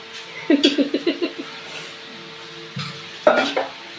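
A metal spoon scraping and knocking around a pot while khichdi is tempered and stirred, a quick run of about seven rhythmic clanks, then a pause and a few more louder scrapes and clinks nearby.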